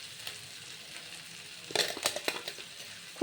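Spice mix being stirred into a pan of sizzling capsicum curry: a soft frying hiss, then a cluster of close scraping, crushing strokes near the end.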